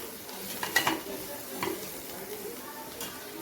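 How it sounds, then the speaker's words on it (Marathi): Turmeric and salt being stirred in a cooking pan, with a few scraping clinks of a spoon against metal over a soft sizzle of frying, fairly quiet and close. "हळद ॲड करूया आणि मीठ. आणि याला छान मिक्स करून घेऊया."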